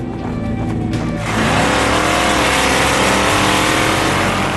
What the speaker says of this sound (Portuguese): A pista de aterrissagem de Gimli havia sido transformada em uma pista de corrida de drag cars.